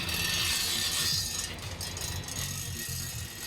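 A sludge dryer machine used for drying filter cake in a waste water recycling plant runs steadily, a continuous mechanical clatter with ratcheting, gear-like rhythm and broad hiss, close and moderately loud, no talk.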